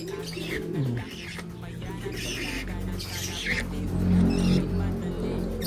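Pigeons kept as racing birds coo and flutter softly while eating, close by, with a low rumble in the background and a person talking intermittently.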